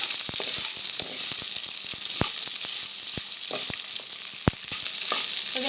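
Onions sautéing in a small amount of oil for crab curry, with a strong, even hiss of frying throughout and frequent sharp ticks and pops from spoon and spattering, heard up close without any voice.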